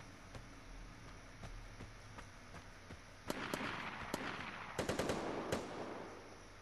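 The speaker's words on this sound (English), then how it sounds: "we hearing gunshots and shit like that" Gunfire in the online shooter Vigor during its tutorial on PS4: faint, sharp shots at first, then a louder, denser cluster of rapid reports over a steady background rumble.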